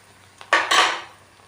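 A short burst of crisp crackling and sizzling of leftover cooked rice frying in a pan, rising suddenly, then fading out within a second.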